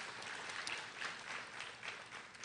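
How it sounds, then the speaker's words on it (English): An audience at a university commencement claps steadily in a continuous, evenly sustained round of applause, heard somewhat distant and faint in a large hall. "So let's just give them a round of applause and welcome"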